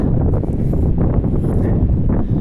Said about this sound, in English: There is a bit of wind blowing here.